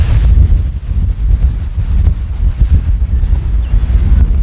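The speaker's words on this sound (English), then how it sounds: "just to give you a show how windy it is today." Strong wind buffets the microphone outdoors at a river forest preserve, a loud continuous rumbling roar that surges and dips without a break.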